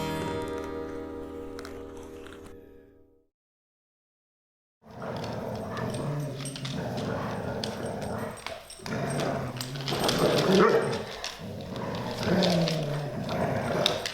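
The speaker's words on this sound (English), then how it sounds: "She is currently in training to become a service dog" Young female service dog in training, heard close up making whimpers, soft growls and yips in a busy, restless stretch after a short silent gap.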